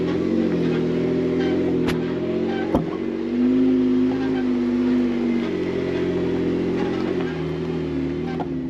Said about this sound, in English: It is steep and shaly and finally actually using the four-wheel drive